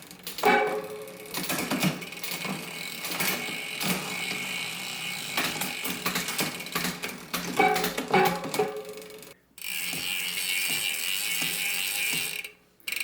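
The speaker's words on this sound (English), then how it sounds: "So 12-speed chain on an 11-speed drivetrain. Let me show you the shifting." Bicycle drivetrain shifting with a 12-speed SRAM Eagle chain on an 11-speed setup with an e*thirteen TRS+ 9-46t cassette, close clicking ratchet freewheel and chain clatter in bursts, broken by brief gaps and shift clunks.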